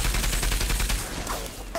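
Sniper gunfire in the video game Call of Duty: a quick, loud cluster of sharp shots in a very brief burst.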